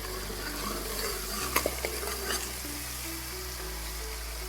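Masala ingredients frying in chilli oil for spicy kanduri mutton, a steady close sizzle with soft stirring scrapes and a few light clinks of a spoon against the pan.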